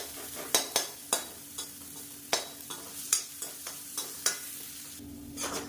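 Crushed garlic fries in a pan with a steady soft sizzle, while a spoon scrapes and taps the pan in irregular clicks, close and fairly quiet.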